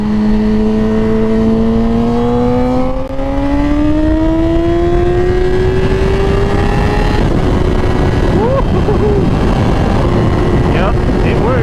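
Yamaha R6 sport motorcycle, a 2017–2021 model fitted with a newly installed quick shifter, accelerating hard on the road: a loud, close engine note climbing steadily in pitch for several seconds, then settling into a steady drone as it cruises on.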